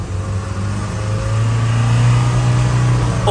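A vehicle engine roars steadily as the throttle is opened hard, a loud, close, sustained drone with a slowly rising pitch.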